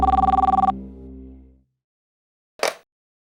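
Telephone bell rings in a fast rattling burst that cuts off and rings down, followed after a pause by a short sharp clack, heard alone with no voices.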